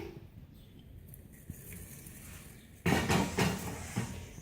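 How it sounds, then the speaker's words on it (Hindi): Meat goes into a clay cooking pot for aloo gosht: faint clinks and a soft thud early on, then a louder burst of wet slapping and scraping as the pieces drop in. "आलू गोश्त मैं मिट्टी की हांडी में बनाऊंगी। सबसे पहले गोश्त शामिल करेंगे।"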